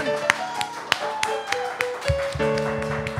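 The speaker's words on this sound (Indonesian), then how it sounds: "Mari kita tepuk tangan buat Tuhan" A congregation at a Christian worship service claps hands in a loose, rhythmic beat over sustained keyboard music.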